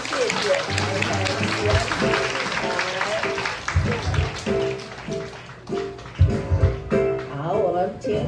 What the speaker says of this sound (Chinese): 我们用热烈掌声谢谢台台